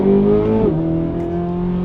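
A Corvette C8 Z06 engine screams at high rpm, then drops pitch abruptly as the revs fall before settling into a lower steady drone, loud and close.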